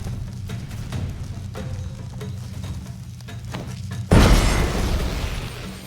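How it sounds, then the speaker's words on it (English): A bomb thrown in The Witcher 3 bursts suddenly after a stretch of quieter game ambience, a loud close blast with a rumbling, slowly fading tail. "Throw a bomb."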